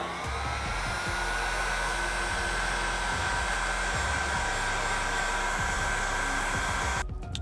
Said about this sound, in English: With our shrink wrap over the butt connectors, you can go ahead,